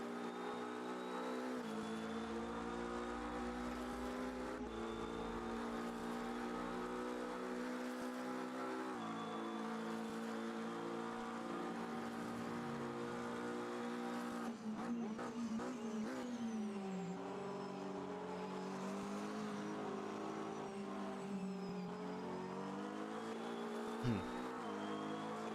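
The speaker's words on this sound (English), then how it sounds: "Like you can already hear the Porsche." Race car engine from a Porsche GT3 in a racing video game, a steady loud droning whine that shifts pitch as it revs up and down, with brief tire squeal near the end.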